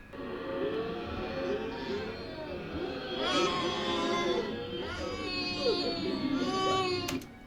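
A baby's scream, processed into a bat sound effect for the game Alan Wake, rises and falls in warbling, wavering cries that carry on continuously at moderate level, with no voices.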